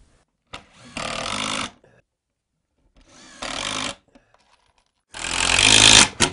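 A power drill drives Kreg pocket screws into a wooden bed frame in three loud, close bursts separated by short quiet gaps, with no talking.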